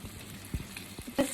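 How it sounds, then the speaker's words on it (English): Garlic frying in a pan for fried rice, a soft sizzle broken by a few scraping stirs and clinks, close and fairly quiet, with no talk. "It's kind of frying really nice."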